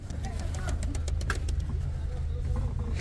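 Small passenger bus carrying about 15 people on the road from Cusco to Aguas Calientes in Peru, a steady low engine and road rumble inside the cabin, with occasional rattles and voices talking over it.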